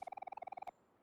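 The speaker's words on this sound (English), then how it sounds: "can hear some birds chirping outside" Birds chirp outside in the video game OMORI, a quick run of about a dozen evenly spaced, bright whistling chirps in a steady rhythm, fairly faint, then stopping abruptly.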